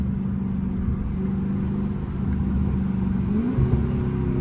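A Dodge Charger Scat Pack engine drones steadily from inside the car, then its pitch sweeps upward as it revs toward 4,000 RPM, a loud low rumble without speech.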